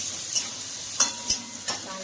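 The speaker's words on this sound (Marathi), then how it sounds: "फास्ट गॅसवरती थोडा चांगलं फ्राय करून घ्यायचा आहे कांदा" Onion and green chili fry over high heat, making a soft continuous sizzle broken by three or four quick clinks and scrapes of a stirring spoon against the pan.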